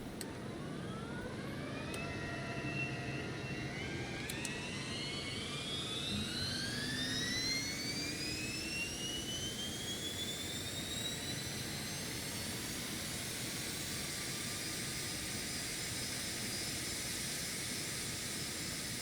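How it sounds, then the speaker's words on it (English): Phenom 300 business jet engine starting in X-Plane 12: a rising turbine whine sweeps steadily upward in pitch and spools to a loud, sustained roar, with no talking over it. "And we'll go ahead and start engine 1."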